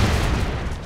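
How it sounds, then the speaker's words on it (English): Gunfire and explosions from the run-and-gun video game Broforce fill the short stretch, a dense, continuous barrage of booms and shots with heavy low-end rumble, loud and close without any voice. "There were bonus explosions."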